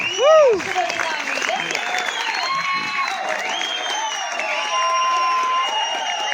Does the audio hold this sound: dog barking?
no